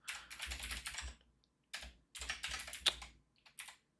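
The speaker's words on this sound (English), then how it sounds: "you're hearing all my clacking because this is a typist keyboard" Clacky typist-style computer keyboard being typed on, bursts of rapid key clatter separated by short pauses, close and clear with no talk.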